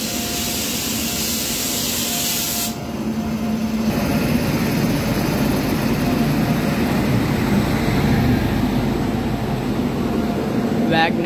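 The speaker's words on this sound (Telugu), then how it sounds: "WAG 9 లోకోమోటివ్ అయితే పుల్ చేస్తుంది ఆ గూడ్స్ ట్రైన్ని." A goods train hauled by a WAG 9 locomotive passing close by, a loud, steady rushing roar and rumble that holds for the whole stretch.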